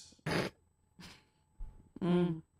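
A person clears their throat in several short, rough bursts separated by brief pauses, ending with a longer, more voiced rasp, close to the microphone.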